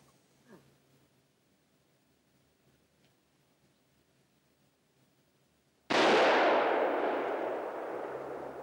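A rifle shot fired at a moose during a 1993 Swedish moose hunt: after a long stretch of quiet outdoor ambience, a single loud, sharp blast breaks out and rolls on in a decaying echo through the woods.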